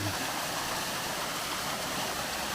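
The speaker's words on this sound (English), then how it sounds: "just wanted to get some shots of this beautiful little waterfall here at the top" A small waterfall near the top of Tabor Falls rushes in a steady, even broadband wash that stays constant, with no voices or other sounds over it.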